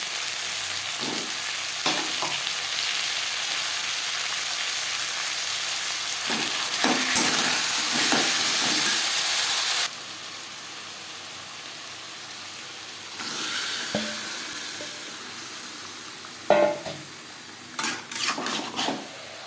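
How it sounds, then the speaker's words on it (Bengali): Marinated chicken and onions sizzle and fry steadily in oil in a pan, close and loud, while a utensil stirs and scrapes against the metal now and then. "পেঁয়াজ হালকা করে ভাজা হয়ে গেছে এবার দিয়ে দেবো ম্যারিনেট করে রাখা চিকেন"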